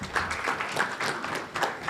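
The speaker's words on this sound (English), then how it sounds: "Can we applaud the speakers?" An audience at an intergovernmental agriculture forum in Shanzu, Mombasa, claps steadily for the speakers. The applause is a dense, continuous patter throughout, with no pauses.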